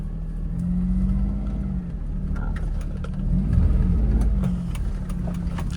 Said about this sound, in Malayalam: ഓക്കെ, അപ്പൊ നമുക്ക് വണ്ടി എടുത്തേക്കാം